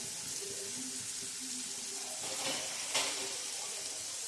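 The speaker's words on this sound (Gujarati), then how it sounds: "ટમેટા તળવા દઈએ જરીક વાર ઢાંકીને" Tomatoes frying in a covered pan for paneer butter masala, a soft, faint, steady sizzle with a slightly louder burst near the end and no talking.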